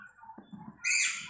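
Birds burst into a shrill, bright chattering near the end of the clip, high in a tall banyan tree beside a village temple, after a few quiet, soft outdoor moments.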